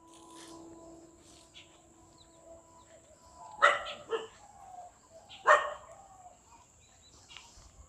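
A pet dog outdoors near a small field gives two sharp barks a couple of seconds apart, with softer yips and rustling between them over a quiet background. Faint tonal sounds are also present.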